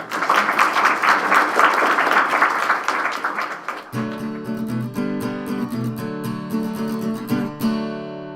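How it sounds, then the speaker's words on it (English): Audience applause at a language-teaching conference forum, a dense burst of many hands clapping for about four seconds, then giving way to music. "Round of applause for"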